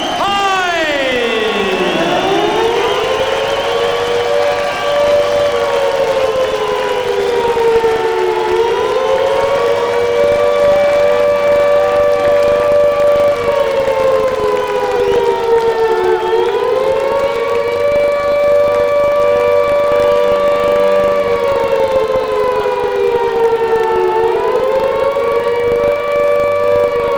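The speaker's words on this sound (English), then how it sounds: "are those sirens sounding a warning for Hyde himself or for Klitschko?" Civil defense-style sirens wail loudly and continuously at the entrance of the WBO heavyweight champion Herbie Hide into a boxing ring, the pitch sweeping up and slowly rising and falling in long cycles, with no talk over it.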